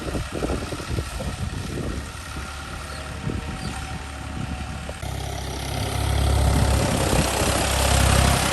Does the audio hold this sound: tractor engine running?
yes